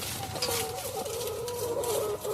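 Chickens cluck steadily in a coop fitted with a 1/4-inch drip watering line, several birds calling close by in overlapping bursts that continue for the full stretch with no talking.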